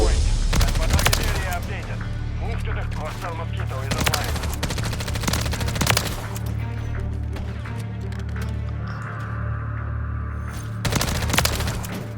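Modern Warfare 3 gameplay with a sniper rifle, bursts of rapid gunfire and loud individual shots cracking close by, dense and continuous over game sounds, with someone talking at times.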